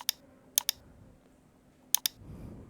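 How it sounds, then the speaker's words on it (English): Computer keyboard shortcut keys, Ctrl combinations for copy and paste in Photoshop, clack in quick pairs of sharp, close clicks, three pairs spaced apart over a faint background. "pressing Ctrl C to copy and Ctrl V to paste"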